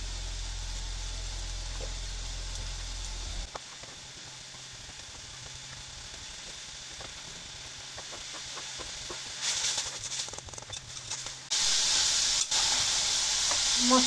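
Salt, turmeric and chili powder fry in a pan with a faint, steady hiss that swells into louder sizzling bursts toward the end.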